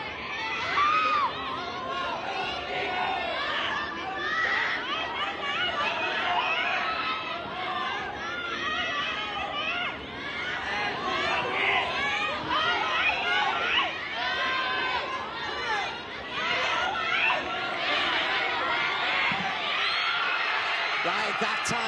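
Spectators at a women's 60 kg para judo bout at the ASEAN Para Games in Thailand grow loud and excited, a dense, sustained wash of cheering and chatter with a voice talking over it.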